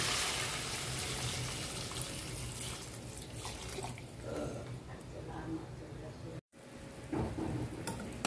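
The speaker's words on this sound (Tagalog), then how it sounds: "pwede na natin lagyan ng tubig para sa pagpapanambot" Water pours steadily into a pot with a continuous rushing splash, briefly cut off, then resuming with clinks; a voice speaks faintly underneath.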